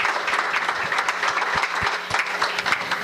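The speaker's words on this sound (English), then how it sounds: "Let's give up another round of applause." Applause from an audience at a live stage show, dense and sustained at moderate loudness throughout, with some cheering mixed into the clapping.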